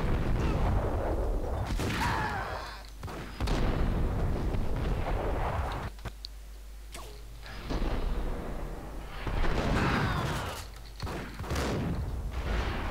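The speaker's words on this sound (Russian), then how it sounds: "Стрельба тут настоящая." Gunfire in the Max Payne video game, heavy booming shots and bursts that come in loud clusters with short lulls between them, layered over a steady low rumble.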